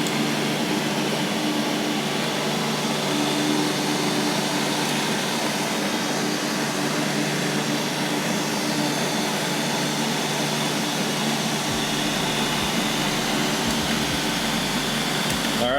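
A Neato D8 robot vacuum runs with a steady, close, droning whir and airy hiss that holds at even loudness, with a few faint bumps near the end.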